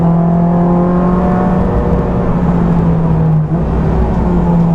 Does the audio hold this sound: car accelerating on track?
yes